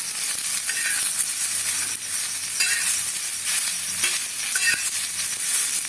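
Black masala ingredients roast in a little oil in a pan, a bright constant sizzle broken by repeated scraping stirs every second or so, with no one speaking.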